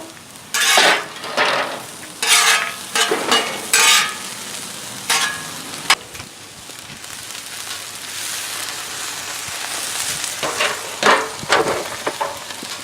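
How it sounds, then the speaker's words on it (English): Beef and broccoli frying on a Blackstone griddle while being stirred, a steady sizzle under repeated sharp scraping and clanking of a spatula against the hot flat-top in several bursts. "I'm going to check and stir our broccoli"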